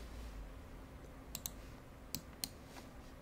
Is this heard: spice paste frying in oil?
no